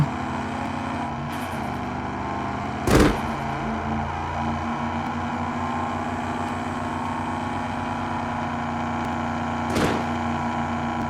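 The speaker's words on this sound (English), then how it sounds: "That thing sounds crazy with that exhaust." A car engine with a loud exhaust drones steadily in the Drive Beyond Horizons driving game, a constant harmonic hum broken by two brief, sharp bursts.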